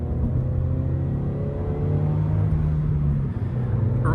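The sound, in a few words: Toyota GR86 car engine while driving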